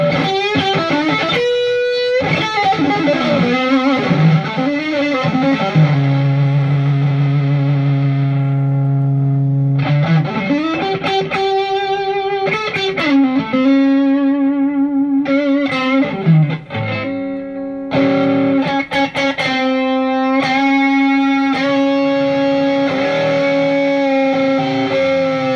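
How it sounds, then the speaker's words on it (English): Coyle custom Strat electric guitar with a baseball bat neck played through a gain boost, giving high-gain distorted tones: sustained notes, bends and chords ringing loud and continuous with no talking. "There's like little nuanced high gain Strat kind of tones."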